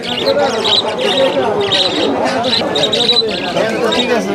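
Pigeons chirp and coo steadily at a pigeon market, with people talking throughout and a constant crowd murmur underneath.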